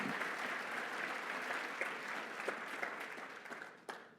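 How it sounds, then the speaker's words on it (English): Audience applause for city councillors at a State of the City address, a continuous patter of many hands at moderate distance with a few sharper individual claps standing out, tapering slightly near the end. "I'd like to hear a round of applause for them"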